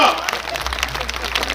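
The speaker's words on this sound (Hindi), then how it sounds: "जोरदार तालियां" Loud applause rises from a crowd at a village political gathering, a brief wash of clapping with voices mixed in.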